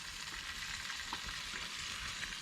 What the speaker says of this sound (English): They're delightfully sizzling away.